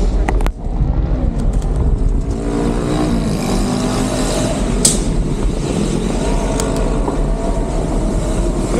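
A motor vehicle engine rumbles loudly past on a busy Mexico City street, heard from a bicycle, a steady low roar with wind buffeting the microphone and a brief sharp knock midway.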